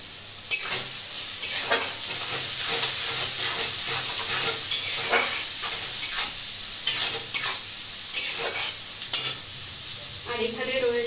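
Onions fry with ginger and garlic paste in a pan, a close, steady sizzle broken by repeated scraping and clattering stirs of a spatula.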